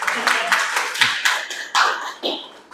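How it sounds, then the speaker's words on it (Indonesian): A small audience claps for a student in a few scattered, uneven bursts, each clap distinct and close, with a voice murmuring alongside. "Tepuk tangan buat Mas Dimas"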